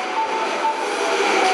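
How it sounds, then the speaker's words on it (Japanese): A train pulls in at platform 2, bound for Shin-Osaka via the Umeda direction, with a steady close rumble and rail noise and faint squealing tones. No announcement or voices are audible over it. "2番線新大阪行きが到着です。"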